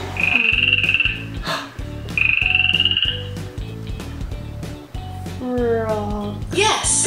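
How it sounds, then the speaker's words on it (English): A frog croaks in repeated bursts over a steady rhythmic musical beat, followed by a short jingle. "It's a frog."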